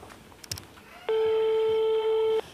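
A telephone rings out once with a long, steady electronic tone lasting over a second while a call is placed to a cousin, following a few faint background noises.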